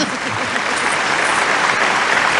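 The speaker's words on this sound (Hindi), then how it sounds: "किया तो जरा जोरदार ताली।" Loud, dense applause from a comedy poetry gathering audience, a steady wash of clapping that holds evenly without pause.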